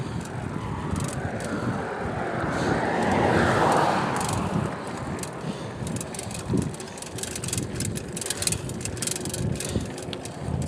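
A motor vehicle passes on a steep uphill road, its engine swelling to a broad rumble mid-clip before fading, heard through heavy wind buffeting on the microphone during a cold bicycle ride in Saudi Arabia.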